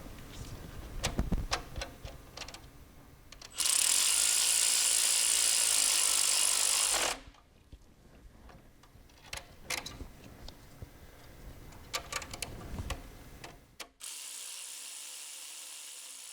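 Ratchet clicks come in short bursts while bolts on a 2004–2009 Toyota Prius ABS actuator are tightened, with a loud steady hiss in two long stretches and scattered metallic taps between them.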